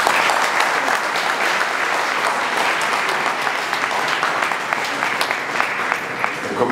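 Sustained applause from an audience at an Italian public meeting, steady dense clapping filling the room for several seconds without a break, with only scattered voices beneath it.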